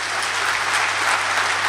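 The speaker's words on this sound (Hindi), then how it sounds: "आपके तालियों के जरिए एक बात कहलाना है" Brief burst of audience clapping at a Hindi kavi sammelan poetry recital in Ichalkaranji, a dense, even wash of applause filling the short span at steady loudness.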